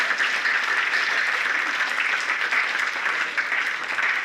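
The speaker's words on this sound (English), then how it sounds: "Another big round of applause again for the San Diego Korean Pungmul Institute, ladies and gentlemen." A banquet audience at a veterans reunion and alliance event claps in a sustained round of applause, a bright, dense wash of hands that holds steady without pause.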